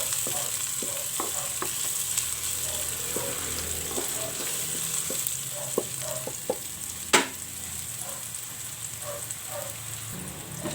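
Tomato goes into a pan of browned garlic and onion and sautés with a constant close sizzle, while a spoon or spatula scrapes and taps the pan in irregular strokes.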